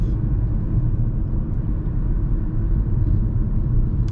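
Low, steady road rumble from inside a moving car cruising along a smooth road, a continuous engine and tyre drone with no voices.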